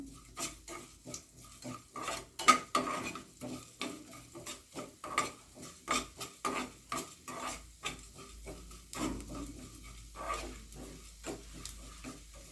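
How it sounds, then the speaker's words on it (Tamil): Cumin seeds and spices dry-roasting in a pan for a broccoli gravy, with scraping stirs and soft crackles, steady and close, a few sharper clinks of a spoon against the pan. "லேசாக பொரிய ஆரம்பிச்சிருச்சு"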